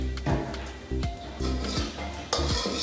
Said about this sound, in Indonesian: Setelah ebinya harum, kita tuang ke dalam panci.